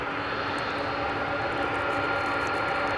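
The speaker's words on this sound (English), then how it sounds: "Singapore cargo plane taking off from the east side" A Singapore cargo plane taking off from the east side of DFW Airport at night, a steady, distant broadband jet engine roar that holds evenly throughout with no talk.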